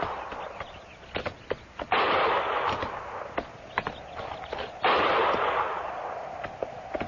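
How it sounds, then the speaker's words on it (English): Distant gunfire echoing from low-lying hills, a scattering of sharp cracks followed by two heavier booming reports that roll out and decay across the open country. "Didn't sound like no regular shooting."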